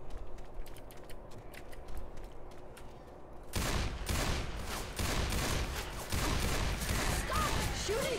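Gunfire in Left 4 Dead 2 erupts midway as a dense, loud barrage of rapid shots, following a quieter stretch of scattered clicks and ambient game noise.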